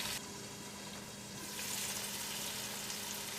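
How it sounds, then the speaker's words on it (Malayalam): Salted tomatoes cook in a pan on a medium flame, making a steady, fairly loud sizzle and bubbling hiss throughout. The sound brightens slightly midway. "ഇത് നമുക്ക് മൂടി വെച്ചിട്ട് ഒരു മീഡിയം ഫ്ലെയിമിലിട്ടിട്ട് തക്കാളി വേവിച്ചെടുക്കും"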